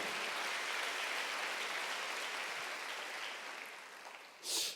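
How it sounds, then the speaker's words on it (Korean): Applause from a church congregation during a Sunday worship service, a broad steady wash of many hands clapping that gradually thins toward the end, then a brief louder burst. "박수."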